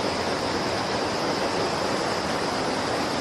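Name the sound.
water flowing into a river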